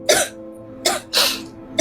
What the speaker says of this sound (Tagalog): Inuubo ka na naman